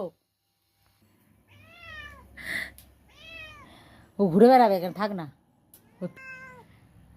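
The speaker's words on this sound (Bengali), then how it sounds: "বিড়ালটা ঢুকে এসেছে ঘরের ভিতরে" A cat meows several times indoors, close by, with someone speaking between and over the meows.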